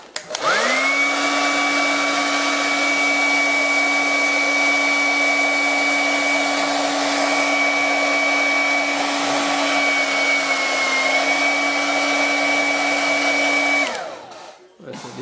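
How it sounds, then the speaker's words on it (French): A hair dryer heating glue to remove a rear window runs steadily and loudly at close range for a long stretch, its whine holding constant before switching off near the end. "je vais prendre le sèche-cheveux, je vais le chauffer un petit peu, de façon à ramollir la colle"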